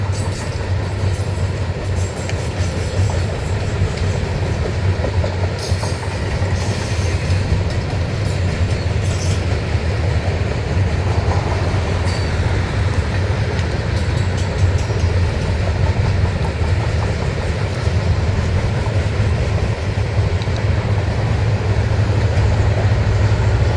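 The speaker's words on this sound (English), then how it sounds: "Sweet, my first Powder River Basin coal train." A heavy Powder River Basin coal freight train rumbles steadily past nearby in Wyoming, its wheels clattering and clicking on the rails for the whole stretch, with no pause.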